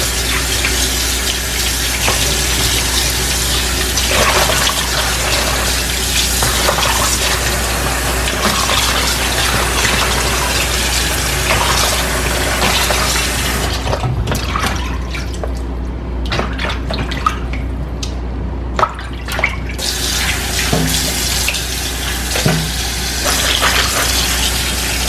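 Tap water runs in a loud, steady gush while raw chicken is rinsed in a kitchen, with brief drips, splashes and clinks breaking through near the end.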